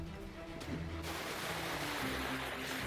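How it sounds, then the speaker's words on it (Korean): Seawater surges up a cold beach at low tide, a rushing wash of surf that swells after a second and keeps roaring steadily, with no talking. "오, 파도 온다, 파도 온다, 파도 온다."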